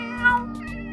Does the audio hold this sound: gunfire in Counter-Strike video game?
no